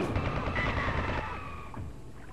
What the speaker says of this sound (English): It's completely impervious to all my shooting.